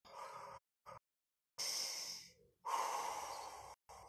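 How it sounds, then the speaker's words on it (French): Heavy, forced breaths during an exercise hold, deep inhales and strong exhales in uneven bursts separated by short silences, close and fairly quiet. "N'hésitez pas à forcer la respiration."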